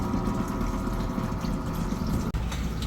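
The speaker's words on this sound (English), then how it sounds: "It will again start pumping the water upside." A hydroponic tower pump pushes water upward with a continuous mechanical hum and watery churn, close by and even throughout, broken by one brief dropout near the end.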